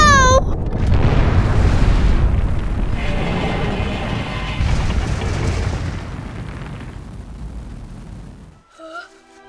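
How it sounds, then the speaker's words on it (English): A huge explosion bursts out and rolls into a long, rumbling roar that fades before cutting off, with short high voice cries at the start and end. "What an explosion!"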